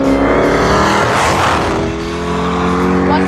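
An AMC Javelin race car roars past on a track, loud and close, its engine note rising and falling with a strong doppler sweep as it goes by, then fading into a sustained drone as it pulls away.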